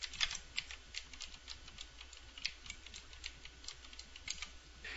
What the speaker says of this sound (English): Start over with the typing.